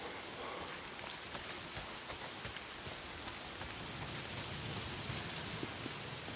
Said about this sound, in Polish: Jak nie świrusy, to zaczyna kurwa padać. Czemu tu ciągle pada?